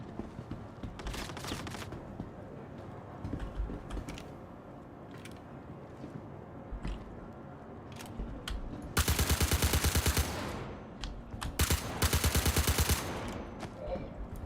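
Suppressed weapon fire in the space game Star Citizen, heard as rapid sustained bursts that come out surprisingly loud: a long continuous burst, a brief pause, then another burst, over quieter scattered shots and background game noise.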